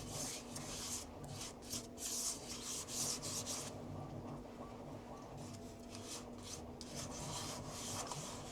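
Wet sanding of a Florida live oak wood bowl with auto-body sandpaper makes a soft, steady rasping rub in close, faint strokes, pausing briefly midway before resuming.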